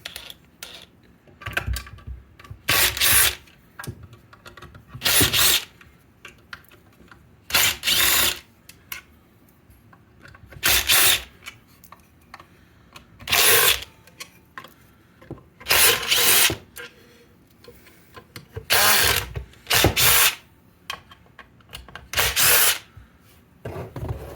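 A power tool whirs in about ten short, separate bursts as it removes the faceplate from a leaking, noisy hot tub circulation pump, with quiet pauses between bursts.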